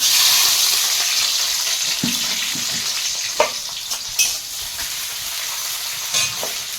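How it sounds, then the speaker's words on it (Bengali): Green chilli and chopped onion sizzle steadily in hot oil in a wok, a bright, close frying hiss broken by a few soft clinks and stirring scrapes. "কাঁচা লঙ্কা আর পেঁয়াজ কুচি নিয়েছি দিয়ে দেবো তেলের মধ্যে"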